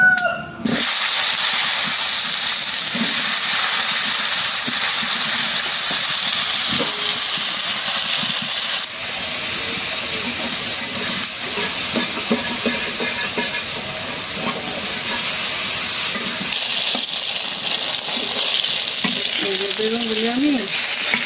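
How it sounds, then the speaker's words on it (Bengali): Eggplant pieces frying in oil left over from frying fish, a loud, dense hiss of sizzling that runs on steadily with occasional stirring scrapes, close and unbroken by talk. "বেগুনগুলি ভাজবো।"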